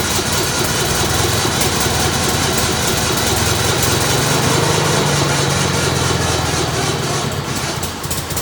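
An old engine, being readied for a plow day after running dry of fuel, runs steadily and loudly with a continuous idling drone and a slight rise in pitch midway, with no talk over it.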